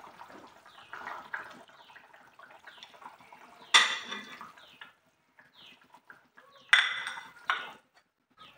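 Fried eggs go into a pot of boiling Assamese curry made with pennywort, with faint bubbling broken by scattered metallic clinks and two sharper clatters of utensil against pot.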